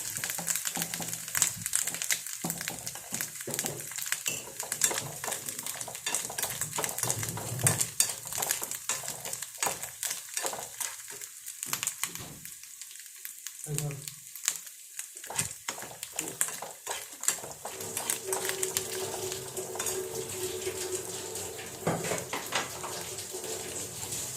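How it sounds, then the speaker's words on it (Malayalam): Grated coconut roasts in a pan for pumpkin curry while a spoon stirs and scrapes through it. The sound is a quiet, continuous rustling and scraping, broken by occasional soft clinks of the utensil on the pan. "തേങ്ങ ചിരണ്ടിയത് വറുത്ത് വരുന്നത്"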